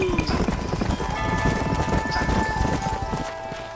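Horses gallop with steady clip-clop hoofbeats in the Western video game Red Dead Redemption, close and continuous under music and ambient sound.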